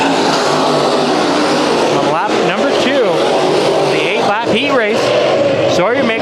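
Race cars roar through a heat race at Bakersfield Speedway, engines droning loudly and continuously, with revving pitch sweeps as cars pass, under an announcer calling the action.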